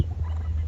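A brief, loud gobble from male turkeys, close by and alone with no talk over it.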